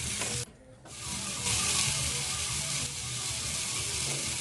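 Salisbury steak patties sear in a hot pan with a steady, broad sizzle that briefly dips then swells louder, continuous and close, with no talking.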